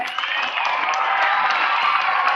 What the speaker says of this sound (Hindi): सभी लोग सुनील को ताली बजा करके उनका स्वागत करें